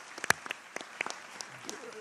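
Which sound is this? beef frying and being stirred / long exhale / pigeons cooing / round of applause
round of applause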